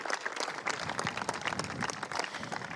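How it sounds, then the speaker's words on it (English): Modest, fairly distant applause at a European Cricket League final presentation, a loose patter of many hands clapping steadily without speech over it. "A big round of applause."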